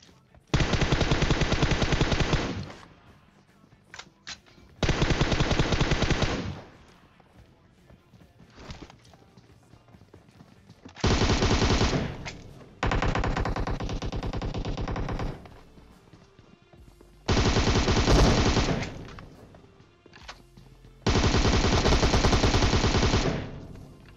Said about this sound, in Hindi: बीच रोड में गाड़ी रोक के यार गोली चला रहे हैं